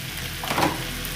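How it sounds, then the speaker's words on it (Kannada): Pre-fried okra goes into a hot frying pan and is stirred for okra palya, giving a brief, soft sizzle with a light stirring scrape. "ಇವಾಗ ಫ್ರೈ ಮಾಡಿ ಇಟ್ಕೊಂಡಿರೋಂಥ ಬೆಂಡೆಕಾಯಿ ಇದನ್ನು ಹಾಕ್ಕೊಂಡು ಹೊಂದಿಸ್ಕೋಬೇಕು."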